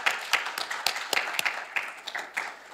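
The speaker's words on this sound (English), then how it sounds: "So give them a round of applause." A scattered round of clapping from a small gathering at a Relay for Life kick-off event, uneven individual claps close by, thinning out toward the end with no one talking.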